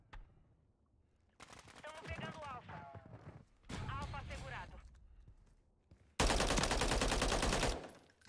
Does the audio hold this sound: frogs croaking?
no